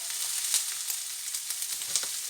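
Prawns browning in olive oil in a pan give a steady, close sizzle and crackle with occasional louder pops, and no voices are heard.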